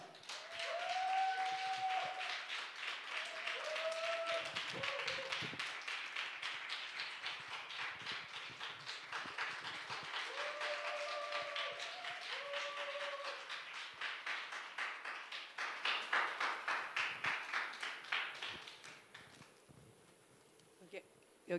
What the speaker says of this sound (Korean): 큰 박수로 환영하도록 하겠습니다.